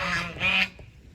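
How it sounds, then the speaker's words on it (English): A goose honks loudly near a backyard garden among bean plants, two quick nasal honks in about a second, clear and close. "The goose is loud."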